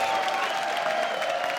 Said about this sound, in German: Mit einem tosenden Applaus verabschieden wir ihn